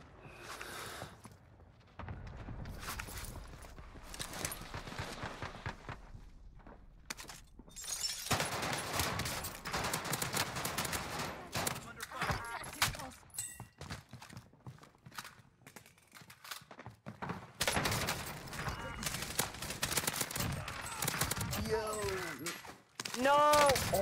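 Gunfire and shattering in a Call of Duty Warzone match on Rebirth Island, dense bursts of loud shots through much of the clip, with excited players talking over it.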